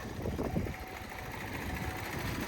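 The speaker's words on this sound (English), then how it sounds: "So this car is running on 3 cylinders" A Cadillac CTS with the GM 3.6 engine idles roughly on three cylinders, a steady uneven low chug heard close and alone.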